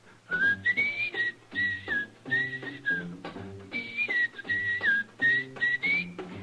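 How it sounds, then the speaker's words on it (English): Someone whistles a bright, bouncy tune in short phrases over soft instrumental backing, clear and up front. "How about whistling along with him?"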